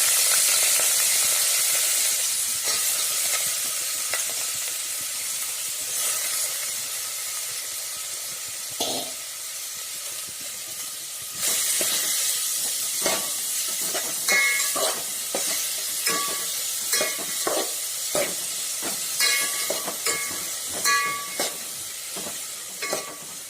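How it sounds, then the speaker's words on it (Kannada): Chopped fresh turmeric frying on a low flame hisses steadily, with spatula scrapes and stirring knocks coming more often in the second half. "ಸಣ್ಣ ಉರಿಯಲ್ಲಿ ಚೆನ್ನಾಗಿ ಹುರ್ಕೋಬೇಕು"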